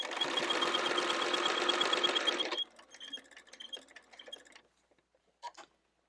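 A sewing machine runs in one close, steady burst for about two and a half seconds while stitching quilt binding to the crease, then stops, leaving faint handling clicks and rustles.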